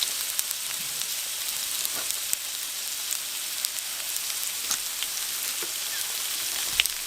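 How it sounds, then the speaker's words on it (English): Onions sizzling steadily in a pan at a riverside campsite, a bright continuous crackle with occasional sharper pops and stirring clicks, close by and without talk. "throw on these onions in first, get them going"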